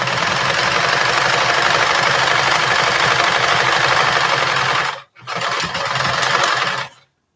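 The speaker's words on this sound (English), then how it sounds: "Now I'm sewing along the bottom of the fabric here, of the bottom of the bag." A sewing machine stitches across the bottom of a fabric bag, running as a loud, steady mechanical whir close by, stopping briefly, starting again, then halting.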